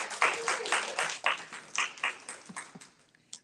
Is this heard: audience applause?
yes